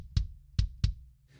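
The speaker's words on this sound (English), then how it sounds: "I've got one microphone inside the kick drum," Three deep, boomy kick drum hits recorded by a microphone inside the drum, with a clicky attack, close and punchy, spaced unevenly, then silence.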